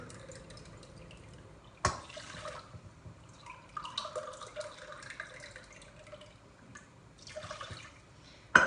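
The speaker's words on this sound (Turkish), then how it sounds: "2 su bardağı da suyumu koyuyorum" Water poured into a cooking pot for a Turkish walnut crescent dessert syrup, a moderately quiet splashing trickle with drips that comes in bursts, with a sharp clank near the start and again at the end.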